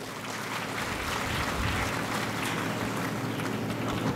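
Steady, dense audience applause fills a political speech gathering at Dabhadi for Guardian Minister Dadaji Bhuse, running without a break at an even, moderately loud level.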